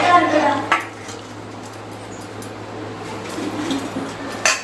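A spoon stirs payasam made with milk and dry fruits in a metal pot, offered to Ganesha. Soft scraping and a few light clinks of metal, with a sharper clatter near the start and again at the end.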